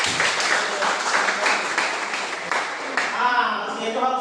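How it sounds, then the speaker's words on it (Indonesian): Students in a classroom clapping together in a dense burst of applause for a few seconds, which then fades as a voice starts speaking. "Oke, baik, tepuk tangan."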